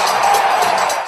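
Roaring stadium crowd cheering at an Atlanta Falcons game in the Georgia Dome, a brief, loud wash of voices and whoops with pulsing swells.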